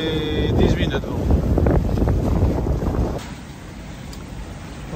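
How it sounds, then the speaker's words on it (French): Strong, buffeting katabatic wind gusts of 10 to 18 knots roar against the microphone for about three seconds at sea off Cape Maleas, Peloponnese, then ease into a softer steady rush. "on est en plein dans les bourrasques catabatiques"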